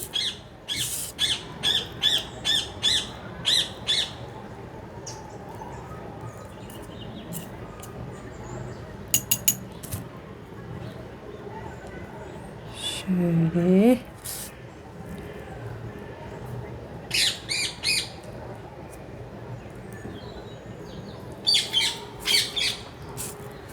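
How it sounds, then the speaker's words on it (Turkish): Green parakeets on a balcony give repeated sharp, harsh squawks in bursts, some loud and close, with quieter chirps and background noise between calls. "Biz papağan diye biliyoruz ama o yemyeşil olanları Hint kargası diye söylüyorlar"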